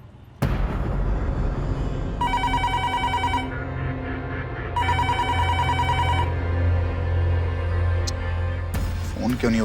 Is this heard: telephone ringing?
yes